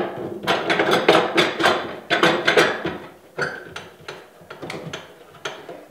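Knobs and the adjustable top of a Ridgid oscillating edge belt spindle sander being loosened and moved up and down in a workshop, giving a run of close, irregular knocks and rattling clunks, loud at first and then sparser.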